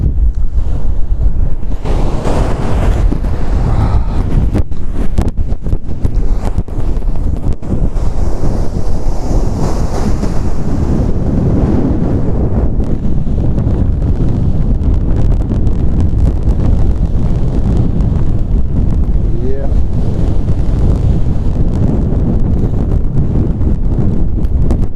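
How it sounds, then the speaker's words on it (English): Strong wind buffeting the microphone on a beach at Vignola a Mare, Sardinia, a loud continuous roaring rumble with surf mixed in, unbroken for the whole stretch. "So we have really strong wind today."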